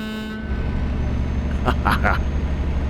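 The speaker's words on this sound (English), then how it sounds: "Oh, air horns." Truck air horn sounding in Euro Truck Simulator 2, a couple of short honks over a steady low engine drone from inside the cab, with talk around it.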